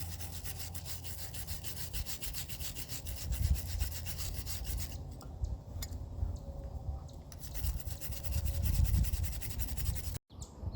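A hand file rasps across a forged steel arrowhead, a failed forge-weld piece, in steady back-and-forth strokes that run continuously at close range with no talking.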